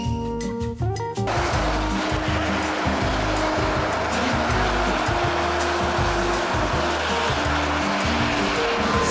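Hot spring water sprays and roars steadily at one of the Beppu hells, a dense continuous hiss of rushing water that follows a brief burst of other sound at the start.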